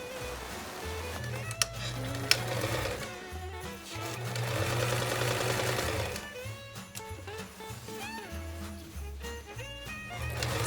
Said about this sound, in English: here I am sewing back down the seam in order to create that French seam